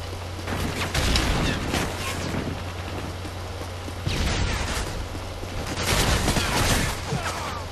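Bursts of automatic gunfire in Modern Warfare 3 come in dense, loud clusters of rapid shots separated by brief lulls, over a constant low hum and a faint voice underneath.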